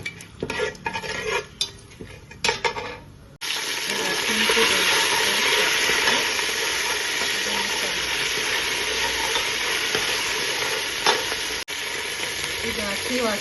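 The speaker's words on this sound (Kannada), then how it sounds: "ಏಲಕ್ಕಿ ಎಲ್ಲ ತಿರುಗಿಕೊಳ್ಳೋಣ." Whole spices such as cinnamon, cloves, shahi jeera and cardamom sizzle steadily in hot ghee while being stirred, a loud continuous frying hiss after a few brief clinks and scrapes at the start.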